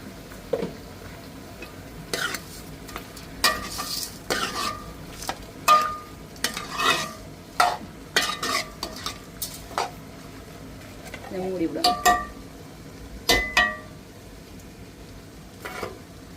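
Salted food frying in a pan for a home-cooked lunch, stirred and scraped with a spoon in scattered sharp knocks and clinks over a faint sizzle, with a brief murmur of voice.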